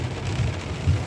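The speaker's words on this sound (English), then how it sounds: "Oh, this rain." Heavy rain falls in a dense, steady hiss, close and loud, with a constant low rumble beneath it and no voices.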